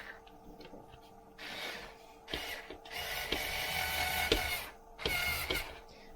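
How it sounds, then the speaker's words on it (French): Small, low-powered battery screwdriver driving screws into the underside of a Tamiya TT01E Buggyra RC truck chassis, giving faint whirring bursts and ratcheting clicks close by. "moi j'ai une petite visseuse à pile, donc elle n'est pas très puissante. Donc on met ici et on vient visser sous le châssis"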